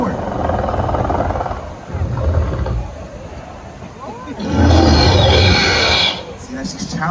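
A guest at a Jurassic World raptor meet and greet roars like a dinosaur, a voice imitating a beast in long loud growling bursts over the crowd and park ambience, with a handler's voice nearby.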